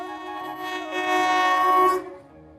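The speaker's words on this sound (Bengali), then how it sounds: "ট্রেন আসছে" A train sounds a loud, sustained horn blast at a rail crossing gate, the tone holding for about two seconds before cutting off, alone and close by.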